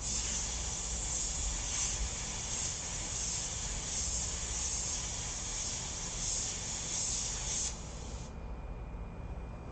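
Airbrush spraying paint over a stencil dragged across the surface, a steady close hiss running unbroken for about eight seconds before dropping to a quieter tail.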